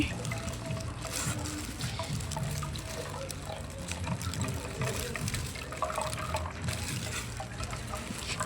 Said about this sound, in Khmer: យកវាមក ចាក់ចូលក្នុងស្បៃត្រង់ យកតែទឹក សណ្តែកទេបងប្អូន